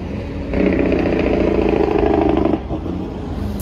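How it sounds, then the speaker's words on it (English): A heavy road vehicle roars past nearby, its engine swelling loudly for about two seconds over steady traffic noise before fading back to a lower rumble. "why are the trucks so loud?"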